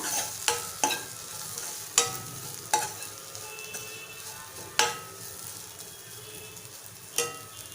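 A spoon stirs Malvani-style bitter gourd bhaji in a hot pan after peanut powder and fresh coriander go in: a soft continuous sizzle broken by about eight sharp scrapes and clanks against the metal, close up.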